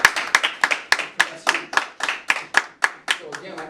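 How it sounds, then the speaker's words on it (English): Students at a workshop clap in a loose, fairly steady rhythm of about a dozen sharp, close claps that trail off toward the end. "I think y'all should give yourself a round of applause for that"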